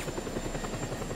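A military helicopter in the video game Just Cause 2, its rotor and engine giving a steady, close, loud thudding whir that holds unchanged throughout the short stretch.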